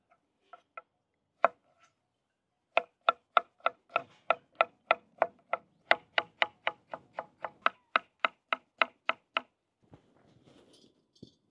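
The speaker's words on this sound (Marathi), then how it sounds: "आपण आता ग्रेव्हीसाठी टमाटर कट करून घेऊ।" A knife chops tomatoes for a village-style dhaba gravy in a steady run of about two dozen crisp, close strikes on a board, starting with a few scattered cuts, then quick even rhythm, followed by faint rustling at the end.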